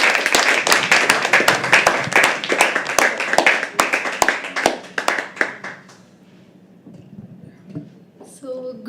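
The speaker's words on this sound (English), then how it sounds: "Keep clapping. Keep clapping. Till she comes on stage." An open-mic poetry audience claps steadily for about six seconds while waiting for the next performer to take the stage, then the applause fades into quiet room murmur.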